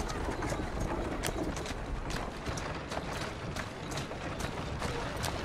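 Horse hooves in the video game Assassin's Creed clip-clop in a quick, steady rhythm throughout, loud and close, with a constant background noise underneath.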